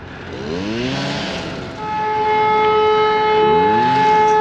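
Sirens wail at Cochem's Reichsburg castle, rising and falling in sweeping tones before settling into a loud, steady held pitch, close and continuous throughout.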